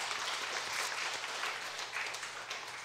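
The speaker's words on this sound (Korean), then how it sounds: "박수 한번 쳐줘요" Congregation applause during a Sunday afternoon church service, a steady faint wash of clapping filling the hall with a low hum underneath, fairly distant and continuous for a few seconds.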